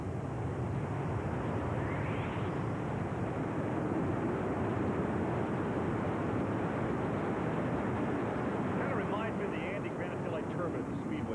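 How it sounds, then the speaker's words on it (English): A constant, heavy roar of turbine engines on a tractor-pulling machine fills the whole clip, loud and unbroken, with a faint rising whine partway through. "Listen to the sound of these turbine engines."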